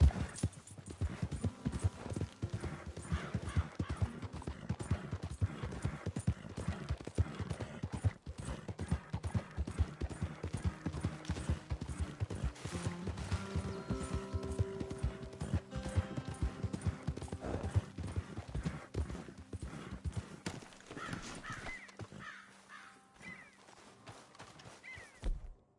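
Horse hooves clip-clopping at a steady trot in the video game Red Dead Redemption 2, a rapid continuous rhythm of close hoofbeats lasting over twenty seconds, with faint background music and a brief voice near the end.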